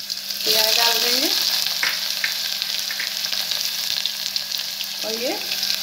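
Onion frying in hot oil along with garlic and cumin for black urad dal, a dense continuous sizzle with scraping stirring strokes and a few brief squeaky scrapes, close and steady throughout.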